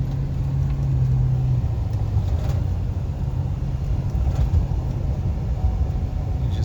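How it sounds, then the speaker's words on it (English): A Chevrolet Avalanche runs on a bumpy road, its steady low road rumble and tire noise filling the cabin, with faint knocks and rattles over the bumps. "This is a bumpy road, and it's a nice quiet ride."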